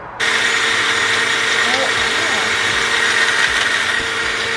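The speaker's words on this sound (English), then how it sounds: "Go off, little blender." A blender whirs loudly and steadily at close range, starting abruptly and holding a constant high-pitched motor whine throughout.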